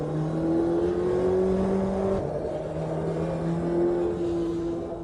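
Audi LMP1 prototype race car in Automobilista 2 at Road Atlanta, its engine a steady, loud onboard drone with a single shift midway, then holding a sustained pitch.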